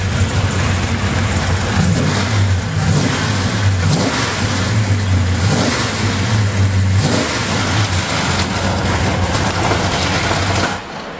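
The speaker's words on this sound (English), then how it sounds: "I know if I give this thing a rev, that alternator's going to make a racket" A 1986 Jaguar carrying a 350 small-block V8 revs hard and repeatedly while its faulty alternator rattles and whines, a loud, close engine rising and falling in surges over a steady mechanical clatter.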